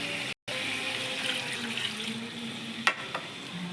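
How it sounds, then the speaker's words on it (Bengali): Water pours steadily into a spice mix in a pot while fish biryani is being cooked, a continuous close splashing stream with a brief break near the start and a small clink later. "ঝোলেই একটু আমি জল ঢেলে দেব এই মশলাটায়"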